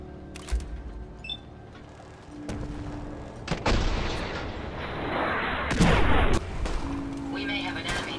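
Volley of gunfire in the video game Fallout 4 Far Harbor, shot into fog at attacking gulpers: a string of loud, booming shots that overlap into a rolling barrage, with voices in the background.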